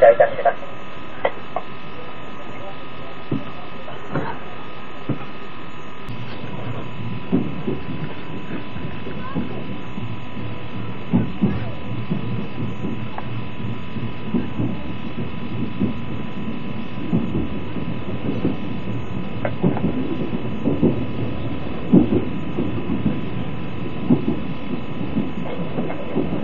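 A steady low electrical hum fills the carriage of the Kaimon express train on the Kagoshima Main Line as it departs, with faint rumbling and occasional clunks underneath, continuous and fairly loud with no speech.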